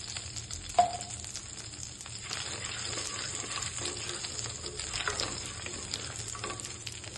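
Bay leaf and whole cumin seeds sizzle steadily in hot oil for a Bengali banana-flower dish, a constant close crackling hiss with one sharp metallic clink near the start.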